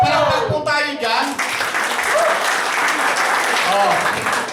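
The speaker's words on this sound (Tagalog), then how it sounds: "O, palakpak po tayo dyan." An audience at a business presentation breaks into applause right after a voice, clapping steadily for a few seconds at moderate volume.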